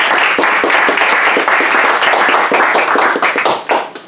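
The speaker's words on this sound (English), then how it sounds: "please give a round of applause for Josh" A lecture audience at the Fletcher School gives author Josh a round of applause, loud and close, with many hands clapping in a dense, steady patter that thins slightly near the end.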